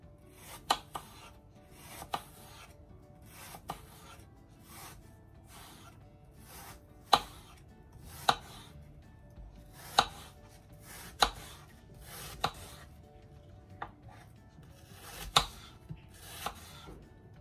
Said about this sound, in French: Donc là, je coupe les pommes.